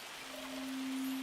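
Hail falling on fields in a farming video game, a soft steady patter of pelting ice with a faint hum running beneath it, quiet and continuous through the short stretch.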